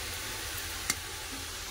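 Chopped tomato with cumin and coriander powder frying in a pan, a soft steady sizzle with one brief clink of a utensil midway.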